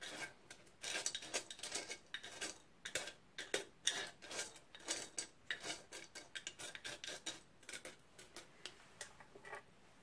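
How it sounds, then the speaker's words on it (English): A spoon pats and levels a bed of gravel inside a terrarium, making a close run of crisp, irregular clicks and gritty scrapes of stones shifting over roughly ten seconds, with no voices. "use your spoon just to flatten it out so you've got a nice level area of gravel"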